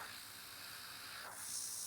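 Airbrush spraying nail art petals gives a steady, close hiss that keeps on throughout and brightens and gets louder near the end.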